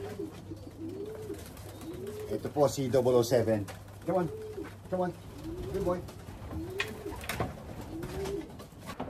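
Racing pigeons coo repeatedly in a loft, close and steady, with rising and falling calls recurring every second or so while someone talks over them and coaxes a bird.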